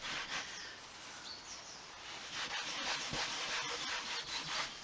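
Leather colour restorer is rubbed into a Toyota Gen 7 Celica leather car seat by hand, giving a steady, close scrubbing friction that continues without pause and has no voice over it.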